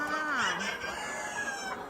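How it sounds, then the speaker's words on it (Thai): A farm rooster, a breeding cock recently vaccinated, crows loudly and close by in one long drawn-out call that fills the clip, with no talk over it. "เสียงไก่ ดังมาก"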